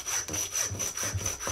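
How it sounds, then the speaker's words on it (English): A hand saw rasps back and forth in quick, even strokes, a gritty close-up scraping of the blade grinding through deer bone while butchering a deer at home. "you can hear that sawing through the bone"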